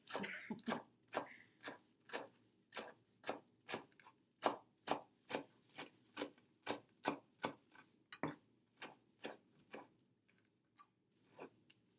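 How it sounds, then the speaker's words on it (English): Cilantro roughly chopped with a knife on a board, about twenty sharp, evenly spaced chops close up, with no talking. "this is just a rough chop because I don't know how to chop cilantro myself"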